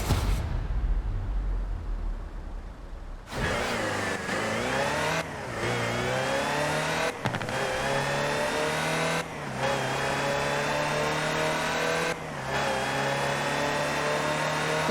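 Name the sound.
Land Rover Type 3 engine driving, from video game Forza Horizon 4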